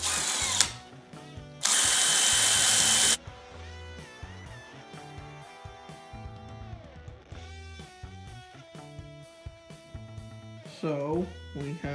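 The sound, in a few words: power drill drilling holes in trike frame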